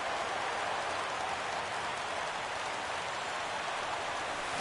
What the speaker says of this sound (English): The rain is intensifying right now.